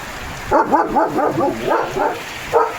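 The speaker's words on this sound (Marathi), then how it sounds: "लिओ पावसाला भुंकवतोय" Leo the dog barks at heavy rain in a rapid run of about eight woofs, close and insistent, with a last bark after a short pause, all over the steady wash of rainfall.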